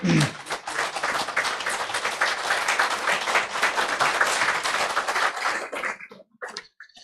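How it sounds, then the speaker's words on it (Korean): A church congregation applauds to welcome a family, a steady wash of clapping filling the room for about six seconds before tapering off into scattered claps and quiet. "큰 박수로 환영하도록 하겠습니다."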